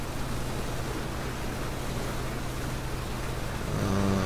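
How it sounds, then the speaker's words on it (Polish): Boat motor humming on water in PlayerUnknown's Battlegrounds, a slow game boat, as a steady broad drone that swells near the end with a rising tonal engine note, with no voices. "A i ta łódź do najszybszych nie należy"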